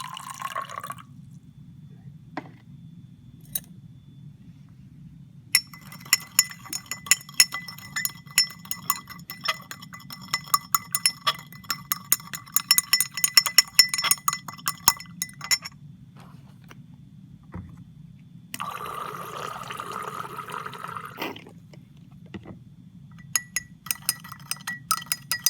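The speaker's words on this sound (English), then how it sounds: "let's go ahead and observe what happens when we place water into our" Water poured into a glass beaker holding sugar, heard as a steady stream of clinks and drips against glass, faint and fairly close, with a brief louder splashing pour near the end over a low background hum.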